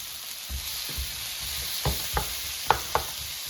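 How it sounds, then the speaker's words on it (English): Mango pieces frying in hot sizzling oil in a pan, a steady sizzle under a series of spatula stirs and scrapes that knock a few times, growing sharper toward the end. "So now the pan is heated and the oil is sizzling, so I'm going to stir the mango."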